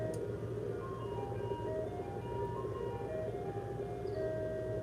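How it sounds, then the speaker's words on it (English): Ice cream truck passing by on a street, its chiming melody playing a repeating tinkly tune at moderate distance over a low traffic rumble, with no talk. "That's the ice cream truck."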